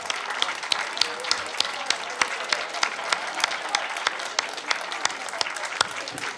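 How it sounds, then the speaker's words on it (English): An audience applauds for authors at a book event, light, fairly thin clapping with distinct individual claps, moderately quiet and without speech. "One more round of applause for all our amazing authors today."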